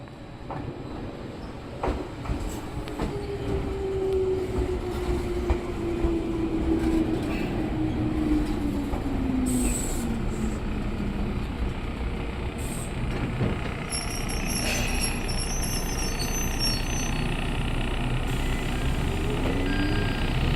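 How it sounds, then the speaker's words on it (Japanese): A Jomo Electric Railway 700 series electric train, a former Keio 3000 series, rolls slowly into a station platform. Its rumble and a long squealing whine carry steadily, and bright chime-like tones sound near the end. "ゆったりとしたスピードで、どこかで見たことがあるような、カラフルな列車がやってきました"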